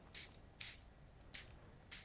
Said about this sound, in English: So use your spritzer to spritz with those.